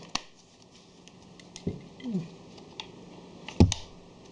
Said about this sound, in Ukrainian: Акумулятор вставляється